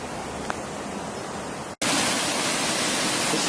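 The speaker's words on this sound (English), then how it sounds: "the water's running stronger this morning" Water runs strongly at a mill outdoors in the morning, a dense, steady roar like a waterfall, briefly cut off then resuming louder.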